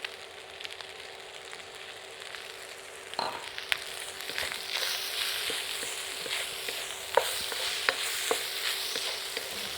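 Chicken fried rice with bok choy and choy sum stir-frying in oil, a soft sizzle that swells to a louder, steady crackle with spatula scrapes and clinks, close by, with no voices.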